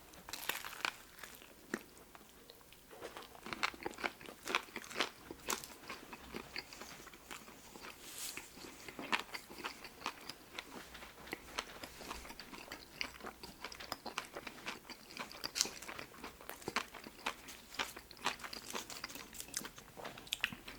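Close ASMR eating of a Subway Thanksgiving festive sandwich: repeated crunchy bites and wet chewing with faint wrapper crinkles, intimate and quiet, no talking.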